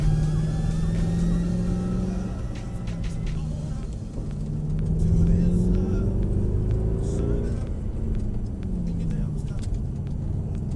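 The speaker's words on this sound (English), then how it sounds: "One thing AMG are very good at is making exhaust systems sound like they should." A Mercedes-AMG car engine rumbles and revs through its exhaust, rising and falling as it accelerates, with a deep throaty drone throughout.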